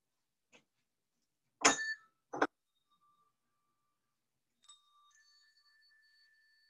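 A few separate bell strikes ring out, two close together, then a later chime fading softly into a lingering tone.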